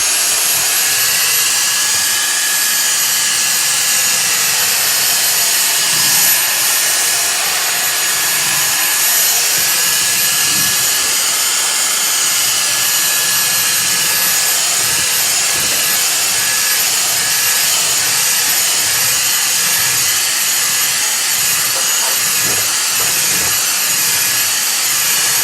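A Dyson vacuum cleaner running loud and steady, picking up pet hair, with a continuous high whooshing motor roar and faint scraping of the head across the floor throughout, no voices.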